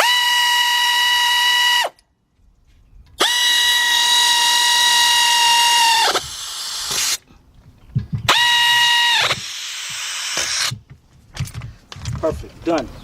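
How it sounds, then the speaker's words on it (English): An air ratchet whirs in three sustained bursts, each a few seconds long with a steady pitch, while lug bolts are tightened during a front rotor job on a 2007 Honda Accord, with workshop clatter afterward. "Get our air ratchet and tighten these up."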